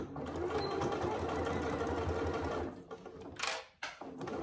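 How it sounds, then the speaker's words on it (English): A sewing machine stitches the long edges of a fabric wash bag in a steady, close, continuous whir, then stops, followed by a short burst and a few handling noises. "I'm going to start stitching the long edges, starting from the main body side"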